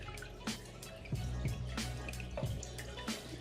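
Tinfoil barb fish are poured from a bag into fish tank water, making faint splashes and trickling drips with a few sharper plops over a soft running-water wash, heard close and quiet.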